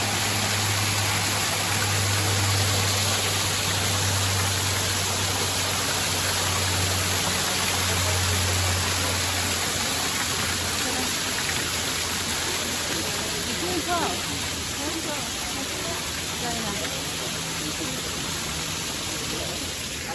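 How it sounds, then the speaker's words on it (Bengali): A waterfall pours down at a resort, making a steady, close, full-bodied rush of falling water that runs unbroken for the whole stretch over a faint low hum. "অনেক সুন্দর পানি পড়তেছে ঝর্নার পানি"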